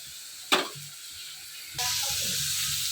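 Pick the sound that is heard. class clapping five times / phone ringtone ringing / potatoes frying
potatoes frying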